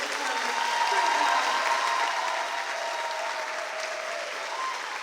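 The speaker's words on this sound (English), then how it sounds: "Can you get one more round of applause for our good?" An audience applauding a school drama club at an arts festival, a sustained wash of clapping from a sizeable crowd that swells early and then eases slightly while continuing.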